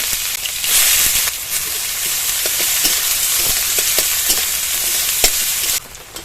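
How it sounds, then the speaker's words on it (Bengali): Chopped onion fries in mustard oil with bay leaves and whole garam masala, giving a loud, close, continuous sizzle broken by sharp clicks of stirring, with no talk. "ফোড়নে দিয়ে দেবো 2টো তেজপাতা আর গোটা গরম মশলা। মশলার একটু গন্ধটা ছাড়তে শুরু হলে এর মধ্যে একটা বড় সাইজের পেঁয়াজ কুচি দিয়ে দেবো।"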